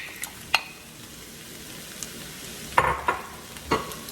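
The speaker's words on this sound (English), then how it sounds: "Go ahead and make sure you're constantly stirring it. We're going to add in our peas and carrots." Rice with peas and carrots being stirred and fried in a pan: a low background sizzle broken by scattered scrapes and clinks of a utensil, with a brief cluster of sharper strokes near the end.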